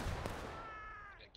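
Musket gunfire in War of Rights on the Corn Crib map: a sharp, booming shot near the start spreads into a rumbling tail. A shout-like voice rises over the fading echo.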